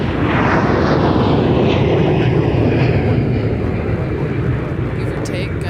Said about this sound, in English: Next departure coming by us is 10:25 to Denver, A321.